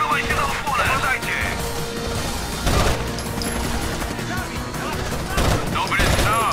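Gunfire in the video game Rainbow Six Vegas: repeated loud shots and bursts crack through a busy battle mix, with players talking over the action.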